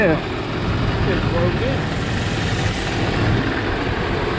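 A used car's engine idles steadily just after starting, a constant low rumble close by, with people talking over it; the car may have a slight valve cover gasket leak.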